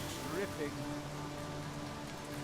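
Magic rain spell in the game Divinity falling over a fire, a steady hiss of pattering raindrops with faint voice-like murmurs underneath.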